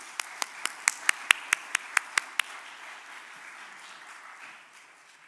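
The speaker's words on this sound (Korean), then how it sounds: "우리 목사님 나오실 때 뜨겁게 박수로 환영해 주시기 바랍니다" A church congregation applauds to welcome the pastor to the pulpit: about ten sharp, evenly spaced claps lead in, then a softer spread of crowd clapping fades away.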